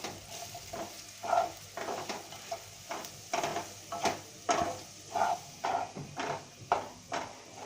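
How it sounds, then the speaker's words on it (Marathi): Ground green peas sizzle softly in a pan while a spoon stirs and scrapes them in a steady rhythm of repeated strokes, close and moderately loud, with no voices. "ओला वटाणा वाटलेला आहे ना तो घालूया हे सुद्धा आपल्याला परतून घ्यायचं आहे"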